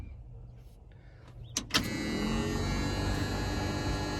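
A blower fan in a 1976 Ford F100 truck switches on after a couple of sharp clicks, then runs as a steady, loud whir with hum that fills the rest of the clip, close by with no talking.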